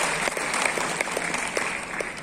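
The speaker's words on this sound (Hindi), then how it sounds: "अरे तालियां" A hall audience at a corporate awards gathering at Science City claps continuously, a thick, sustained applause with a few sharper individual claps standing out.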